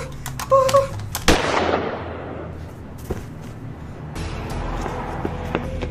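A gunfire sound effect in a comedy sketch: a sharp, loud bang followed by a decaying rumble and a few fainter cracks, with background clatter.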